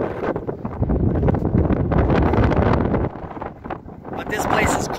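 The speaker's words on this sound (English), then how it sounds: "really windy." Strong wind buffets the microphone in loud, roaring gusts at pueblo ruins, dipping briefly before surging again.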